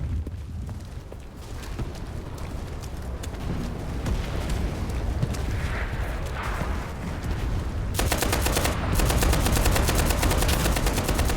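A Browning M1919A6 machine gun fires in the video game Enlisted, long rapid bursts of close automatic gunfire that turn into a louder steady stream toward the end amid battlefield rumble.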